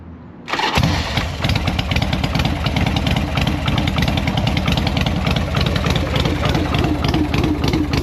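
A Harley-Davidson motorcycle engine on full choke catches after a short crank and settles into a loud, steady, close idle that runs without a break.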